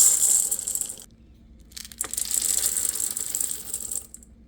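Vegan chocolate chips, white and regular, poured into matcha cookie dough: a loud rattling, clattering shower of small pieces, pausing briefly and then resuming, close by with no talking.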